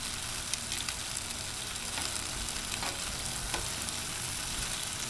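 Chicken wings sizzling on a Blackstone 22-inch griddle, a steady, loud, close crackling hiss with occasional scraping taps as they are moved together.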